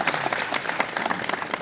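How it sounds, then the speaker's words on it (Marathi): Dense, sustained audience applause at a Marathi film festival award ceremony in Goa, many hands clapping continuously and fairly loud throughout the short stretch. "संजय शेटे यांच्यासाठी जोरदार टाळ्या झाल्या पाहिजेत"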